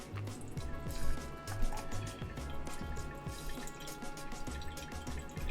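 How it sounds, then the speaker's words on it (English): Water poured slowly and continuously over greens in a kitchen, a faint, steady trickle with soft drips and splashes throughout, no talk. "I'm just going to do sort of an extremely slow, continuous pour."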